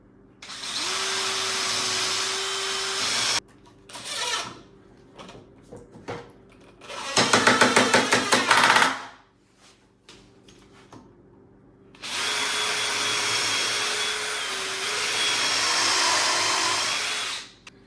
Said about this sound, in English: We'll drill it and glue it.